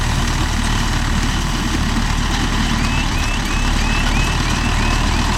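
A Mahindra tractor engine runs steadily nearby, a loud continuous rumble with a dense low throb and broad hiss throughout, and a faint repeating high beep appears partway through.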